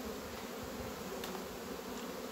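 A small honeybee colony hums steadily in a low, continuous drone, close and even with no pauses, after a little smoke has been puffed in.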